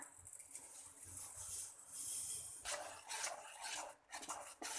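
Roasted rava being mixed with ground urad dal and poha for idli batter, heard as steady close rubbing and rasping scrapes that grow louder and busier toward the end, with no talking.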